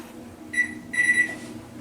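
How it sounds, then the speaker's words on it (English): A kitchen timer on a stovetop gives two short electronic beeps close by, each about a third of a second, with quiet room tone between. "set my timer for 30 minutes"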